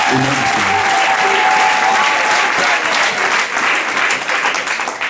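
A church congregation bursts into loud, sustained applause that fills the hall, a voice briefly heard at the start before the clapping slowly fades.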